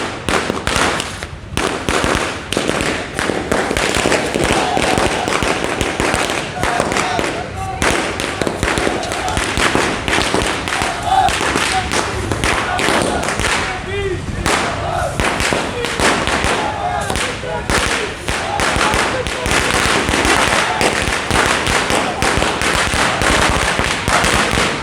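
A dense, nonstop barrage of crackling firecrackers and fireworks bursts at an outdoor BJP party workers' celebration in Sujangarh, loud and close, with crowd voices mixed into the din.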